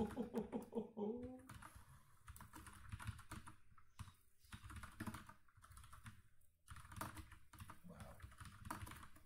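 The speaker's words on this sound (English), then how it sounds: "this doesn't have to do anything with reading, just more so typing" Rapid, irregular clicking of keys on a computer keyboard, typed in bursts with brief pauses, close and fairly loud, while a person talks over it at times.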